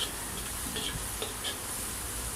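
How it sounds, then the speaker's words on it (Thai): Clams in a pan with roasted chili paste being stir-fried, a steady faint sizzle with light scraping stirs and small ticks throughout, no talking. "ผัดไปจนหอมนะครับ"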